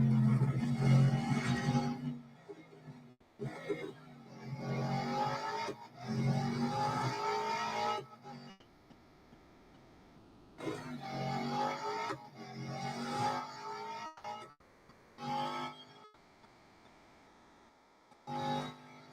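Race cars in the mobile racing game Real Racing 3 rev and roar in long surging bursts with gear-change breaks and short gaps, loud and close, engine tones rising and falling as the race goes on.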